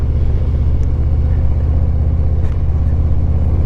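Harley-Davidson motorcycle engine while riding along a winding, slightly bumpy country road: a steady, loud low rumble with wind roar, unbroken throughout.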